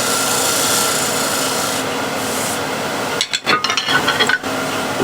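A spindle gouge cleans up a wooden foot on a lathe, a steady loud rasping hiss of the spinning workpiece, broken near the end by a few sharper scraping cuts as the tool bites.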